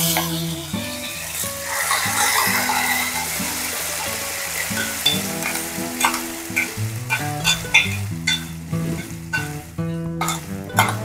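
Ground mustard paste fries in hot mustard oil while a spoon stirs it steadily, with a soft continuous sizzle and rhythmic scraping. Background music plays underneath.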